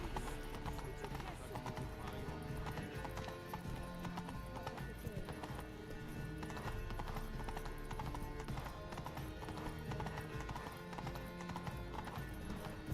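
Hooves of Geralt's horse Roach in The Witcher 3, a steady, close clip-clop gallop that continues throughout with occasional neighing, under voices talking.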